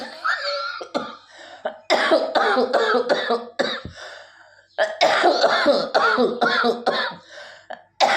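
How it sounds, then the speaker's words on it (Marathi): Repeated harsh coughing fits, loud and close, bursts clustered in two long runs with brief pauses and gasping breaths between them. "आणि खोकला तर बेमापच येतो"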